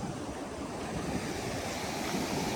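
Ocean waves surge against the shore, heard as a steady, broad rushing roar mixed with wind buffeting the microphone, continuous and fairly loud.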